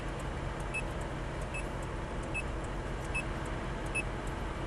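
Ferrari F430 creeping backward at low speed, a steady engine drone with short, regular reverse-warning beeps repeating about once per second.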